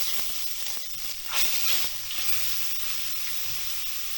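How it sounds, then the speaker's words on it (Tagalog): Fish frying in hot oil, a steady close sizzle and hiss with a brief louder crackling flare, no talking. "ipiprito muna natin ang ating mga isda"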